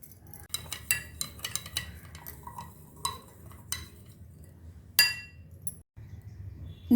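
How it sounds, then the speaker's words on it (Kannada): A spoon clinks sharply against a glass while stirring lime sherbet with sugar, giving a series of close, bright taps and scrapes in an irregular rhythm with quiet pauses between them. "ಇವಾಗ ಇದನ್ನು ನೀಟಾಗಿ ಮಿಕ್ಸ್ ಮಾಡ್ಕೊಳ್ಳಿ"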